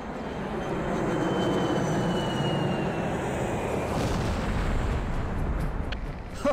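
Fireworks boom and crackle across a video game map, a dense rumbling barrage of explosions that stays loud throughout with no talking.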